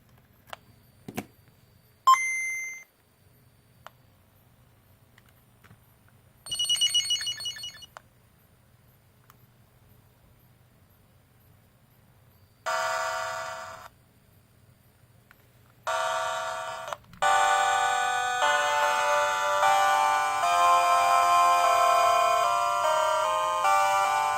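Pokemon Gold running on a Game Boy Color modded with a sound amplifier: a few short chiptune beeps and jingles, then a longer, louder stretch of bright square-wave game music.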